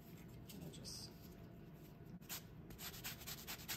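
Orange peel being zested for walnut cranberry bread, a fine steady scraping and rubbing over a grater, close and continuous with brief pauses.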